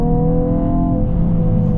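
Hyundai i20N hot hatch engine revving hard in second gear while pulling through a corner, a loud steady drone with rising harmonic tones, close and continuous with no talk.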